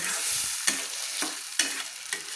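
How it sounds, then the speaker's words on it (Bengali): Cabbage paste for a fish-and-cabbage vorta is stirred in a wok over a low flame. Scraping strokes come roughly every half second over a soft, steady sizzle, with no talking. "বাঁধাকপির ভর্তা বানানোর জন্য বাঁধাকপিকে আমি নেড়ে নিচ্ছি"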